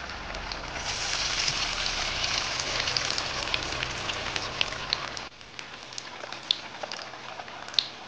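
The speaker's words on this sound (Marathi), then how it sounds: "आणि आता हे छान क्रिस्प होईपर्यंत आपण ह्याला तळून घेऊया." Vada frying in hot oil, a steady crackling sizzle with scattered bright pops, continuous and close, easing a little quieter partway through.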